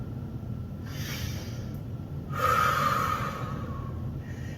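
Steady, controlled breathing during a basic total body workout, with soft exhales swelling into a stronger, breathy push midway, close and alone without talk.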